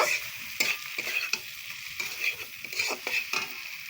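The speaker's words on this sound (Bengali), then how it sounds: "এই ভেজে রাখা ঢ্যাঁড়সগুলি আমি দিয়ে দেবো দেওয়ার পর আবারও নাড়বো চাড়বো ভালো করে" Fried okra being stirred into a simmering curry in a pan, with steady close sizzling and frying under repeated scraping strokes of a spoon against the pan, no talking.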